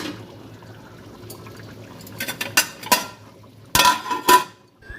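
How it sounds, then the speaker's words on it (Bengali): A metal lid clatters onto a pot of cooking rice in a village kitchen, several sharp metallic clanks and scrapes near the end after a quiet stretch of low background hum. "আমি ঢাকনা চাপা দিয়ে দিই"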